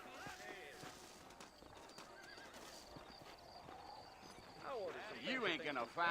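Horses whinny and neigh several times in a Red Dead Redemption game scene, with hooves clip-clopping underneath; a loud burst of neighing near the end, with background game sounds throughout.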